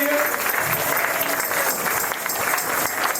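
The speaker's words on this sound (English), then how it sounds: "Let's give our kids a big round of applause." Audience applause fills a town band concert in Lyme Regis: a dense, steady wash of many hands clapping at even loudness for about three seconds, with no clear break.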